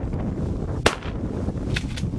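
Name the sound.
gunshot while goose hunting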